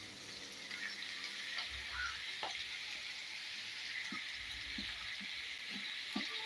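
Onions frying in a pan for chicken sukka produce a steady, close sizzle with scattered small pops and crackles, and no one speaking.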